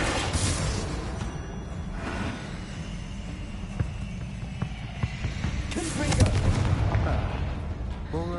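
A Bombarda spell explodes in Hogwarts Legacy, loud blasts and bursts among whooshing spell effects, with a stronger explosion late on and someone speaking during the fighting.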